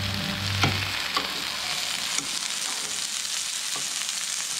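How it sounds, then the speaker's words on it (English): BC spot prawns sizzle and crackle steadily in coconut oil in a hot pan, with a few sharp pops and spatters over a continuous frying hiss. "Sound of the sizzle"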